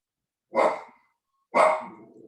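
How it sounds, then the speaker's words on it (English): A small dog barks twice, two sharp, close barks about a second apart with silence between, the second trailing off slightly. "sorry, we have a little dog."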